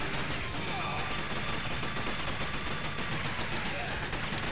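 Gunfire and grenade blasts from the Neo Geo arcade game Metal Slug X: dense, nonstop rattling shots and explosions at steady loud volume, with a voice talking over the game sound.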